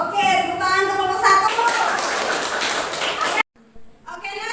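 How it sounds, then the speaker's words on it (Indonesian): Applause for a student group at the end of a classroom computer-networking practicum, a burst of clapping mixed with overlapping voices that stops abruptly near the end. "tepuk tangan untuk kelompok"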